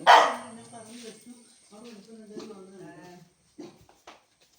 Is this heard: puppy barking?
yes